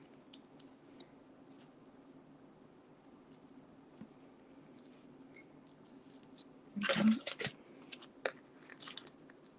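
Scissors snipping paper towel for a die-cut craft project, quiet scattered clicks through a low hum, then a louder burst of close cutting and crinkling near the end, with no talking.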